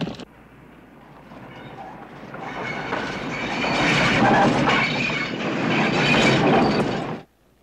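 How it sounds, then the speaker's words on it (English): A train rolls past on rails with a loud, dense rumble and rattling wheel clatter that swells toward the middle, keeps roaring for several seconds, then stops abruptly. "The train."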